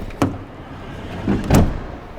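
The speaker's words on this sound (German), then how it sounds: "Die Qualität, wenn du mal kurz die Tür mal schließt, mal feste." The door of a 2020 Seat Alhambra is shut firmly: a light knock is followed by a loud, solid, close thud as the door closes.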